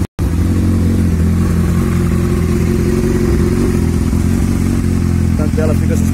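A Honda CB 1000R motorcycle engine runs steadily at a raised idle, a loud, continuous mechanical drone with a brief cutout at the start and a few faint clanks near the end.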